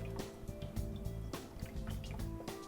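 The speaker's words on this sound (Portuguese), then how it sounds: "Vamos colocar o leite," Milk poured into a blender for cheese bread batter makes a close, gurgling splash with scattered drips and small liquid knocks, with no one speaking.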